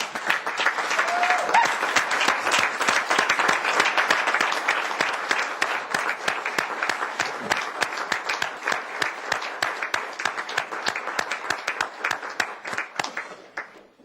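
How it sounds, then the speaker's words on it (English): Sustained applause from an audience at a tribal council meeting, dense and steady clapping for about fourteen seconds that thins slightly toward the end, with no talk over it. "Applause is good."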